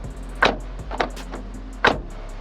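A Kia Morning door handle is pulled open and released several times, giving three or four short, dull mechanical clunks that sound close and crisp against a quiet background.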